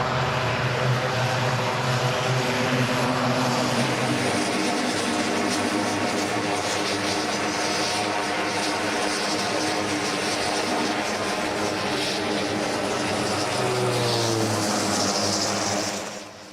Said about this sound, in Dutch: Nog een internationale gast, een Xingu van de Franse marine, maar gedetacheerd naar de luchtmacht.